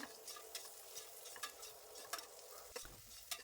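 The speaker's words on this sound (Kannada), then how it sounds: "ಈರುಳ್ಳಿ ಸಾಫ್ಟ್ ಆಗೋ ತನಕ ಎಣ್ಣೆಯಲ್ಲಿ ಫ್ರೈ ಮಾಡ್ಕೊಳ್ಬೇಕು" Softened onions and a handful of washed mint leaves frying in oil in a pressure cooker for mutton keema biryani, giving a low continuous sizzle broken by periodic stirring scrapes and light taps.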